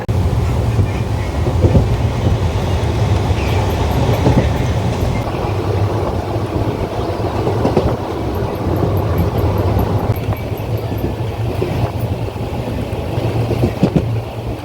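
Passenger train rolling toward Ettumanoor railway station in Kerala, heard from on board as a steady, loud low rumble with rhythmic wheel clatter and a faint high squeal throughout, no talking.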